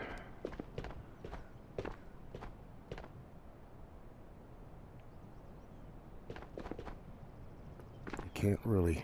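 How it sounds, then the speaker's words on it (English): Footsteps in the VR shooter Ghosts of Tabor: a run of quick, crisp steps, then a pause, then another burst of steps, with a louder clatter of movement at the end. "discern where their footsteps are coming from if you don't stop"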